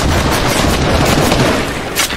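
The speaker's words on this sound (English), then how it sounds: "Grenade launchers are just so crazy." Grenade launcher explosions go off in Fortnite as a dense, continuous wall of booming blasts and gunfire, loud and close, with one sharper burst near the end.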